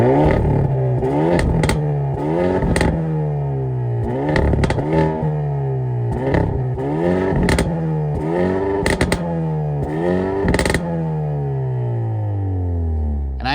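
A 2024 Hyundai Elantra N with factory exhaust fires up and revs repeatedly, its engine note rising and falling in a series of sharp blips punctuated by crackles and pops, loud and close throughout.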